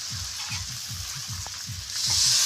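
Spiced curry sautés in a pan with a continuous close sizzle and rhythmic scraping stirs, the hiss swelling louder near the end.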